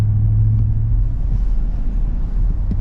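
A 2023 Ford F250 Super Duty engine towing a load, a deep steady low rumble heard from inside the cab, continuous and fairly loud.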